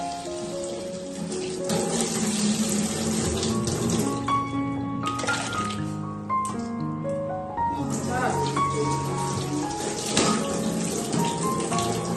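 A field pumpkin is washed under a running kitchen tap, the water splashing steadily and fairly loudly over a bed of tonal background sound.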